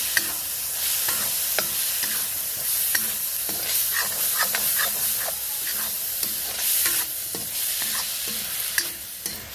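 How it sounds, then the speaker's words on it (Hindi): Finely chopped tomatoes fry with ginger and garlic in a village kitchen pan, giving a steady close sizzle broken by repeated scraping stirs of a spoon throughout, with no talking. "ये हमने 2-3 टमाटर को बिल्कुल बारीक काट लिए हैं, तो डाल के भूनते हैं"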